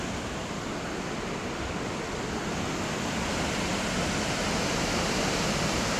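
A waterfall in Wisconsin roars as a dense, constant rush of falling water, loud and steady throughout with no other sounds.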